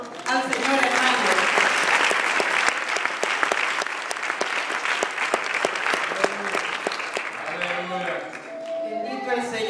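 Congregation applauding in a church, many hands clapping in a loud, sustained burst with sharp individual claps standing out, and voices talking over it as it winds down.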